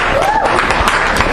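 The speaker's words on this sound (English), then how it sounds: "You guys will clap for anything today" Students clap in a university biochemistry lecture hall, a short burst of scattered clapping with a voice faintly present underneath.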